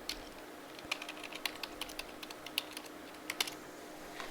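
Fingers typing a username on a computer keyboard, a quiet run of soft, irregular key clicks over faint room hiss, with no voices.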